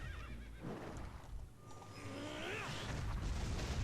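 A horse whinnies in the Epic Seven video game, a loud close neigh with wavering pitch that rises and falls, heard over a rumbling battle backdrop with faint hoof-like thuds.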